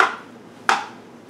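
Knife lightly chopping boiled eggs on a board for red-skinned potato salad, giving two crisp cuts spaced well apart, each with a short ringing tail, close and fairly quiet.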